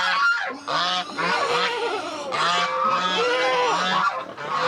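Three geese honk loudly and continuously up close, their calls overlapping in a noisy, repetitive chorus.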